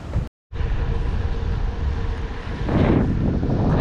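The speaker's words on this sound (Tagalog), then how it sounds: "So malakas yung hangin, headwind" Strong headwind roars against the microphone while riding through Ilocos Sur, a loud continuous rushing buffet after a brief dropout, swelling stronger near the end with no talking.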